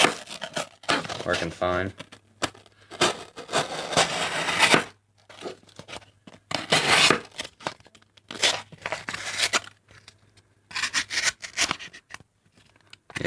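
A CRKT Home Front EDC knife push cuts on a cutting board, giving crunchy, tearing strokes in repeated bursts separated by short silences, close and fairly loud, and someone speaks briefly between the cuts.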